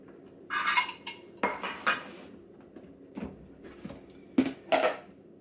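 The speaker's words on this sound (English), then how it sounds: "I'll give it a quick stir to combine" Bread dough ingredients with extra virgin olive oil are stirred in a bowl with a utensil, giving scattered clinks and scrapes against the bowl in short, uneven bursts, fairly quiet and close.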